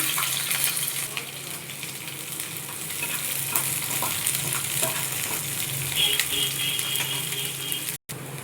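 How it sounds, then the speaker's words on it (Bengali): A tempering of nigella seeds, garlic pieces, green chilli and chopped onion sizzles steadily in a hot pan, with a close, constant frying hiss and faint stirring scrapes. The sound cuts out briefly near the end. "ফোড়নটা আমার হালকা ভাজা হয়ে গেছে"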